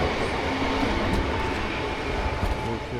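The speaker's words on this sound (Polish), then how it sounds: "No, ja lubię jak jeżdżą pociągi." A train rolls along railway tracks beside an outdoor flea market in Wrocław, a loud close continuous rumble with rattling wheels and faint metallic squeals throughout.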